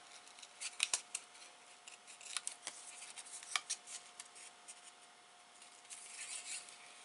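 Scissors snip through paper while making an exploding gift box craft: a close, crisp run of irregular cuts and rustles with no voices.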